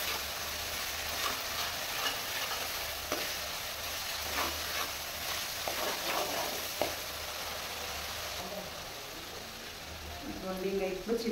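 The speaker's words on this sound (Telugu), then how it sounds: "ఇప్పుడు ఒక చెక్క నిమ్మరసం, ఇవన్నీ కలిసేటట్టు మంచిగా కలుపుకొని" Masala noodles with a squeeze of lemon juice are tossed in a hot pan, a steady soft sizzle under continuous scraping and stirring, with a voice speaking over the cooking throughout.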